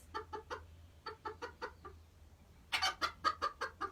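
A broody farm hen clucks close up in short bursts of three to five quick notes, separated by pauses, with the final burst louder and faster.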